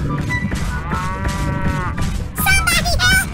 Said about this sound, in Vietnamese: Sao tớ ăn con tuần lộc này nó lại kêu bò một tiếng nhỉ? Như là tiếng của đàn bò nhỉ cậu?